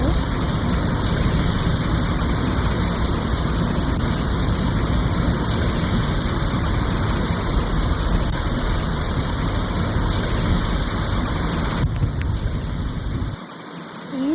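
Heavy rain from Hurricane Alberto pours steadily in Monterrey, a dense, loud roar of water close by that barely varies before dipping briefly at the end.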